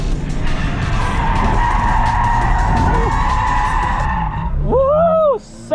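A Honda Fit drifting, with its engine revving loudly and tires skidding in a long, sustained screech, ending in sharp wavering tire squeals as the car slides to a stop.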